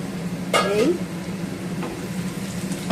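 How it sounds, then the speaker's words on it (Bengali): Potatoes and onions sizzle softly as they fry in a covered pan, with a brief clatter as the lid is lifted and a faint scrape of stirring. "আলু পেঁয়াজ সব ভাজা ভাজা হয়ে এসেছে"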